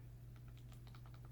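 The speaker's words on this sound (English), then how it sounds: "type in Surfshark" Rapid typing on a computer keyboard, a quick run of light clicking keystrokes heard up close over a steady low electrical hum, with no voices.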